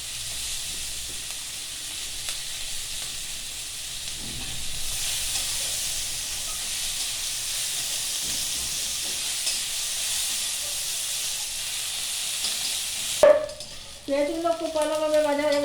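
Chopped onions fry in hot oil with a continuous, even sizzle and hiss for most of the stretch, then a short burst of other kitchen sound and a voice near the end.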